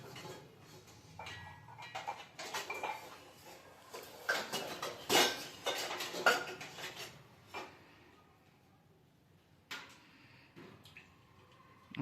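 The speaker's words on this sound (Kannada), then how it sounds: "ಪಾತ್ರೆ ಇಡೋದು." Cooking pots and vessels are set down and handled in a home kitchen, a series of close metallic clanks and knocks clustered in the middle, with quieter rustling between them.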